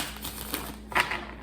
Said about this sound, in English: Let's do 3 major shuffles to see.